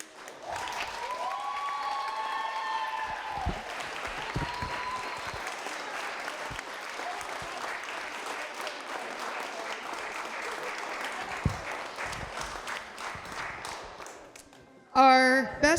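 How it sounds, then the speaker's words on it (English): Outdoor crowd at a soap box derby applauding and cheering the Masters division drivers, steady clapping with voices mixed in for about fifteen seconds, ending in a loud close burst. "let's cheer these Masters drivers on."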